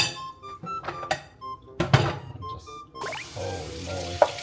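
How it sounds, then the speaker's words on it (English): Dishes washed at a kitchen sink: scattered clinks and thunks of crockery, then a faucet turns on and water runs steadily, close by with no speech. "Time to wash the dishes."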